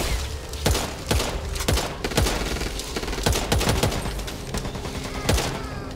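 Rifle fire in the zombie shooter Back 4 Blood, a dense, loud stream of rapid shots with sharp repeated cracks over a busy, constant combat din for several seconds.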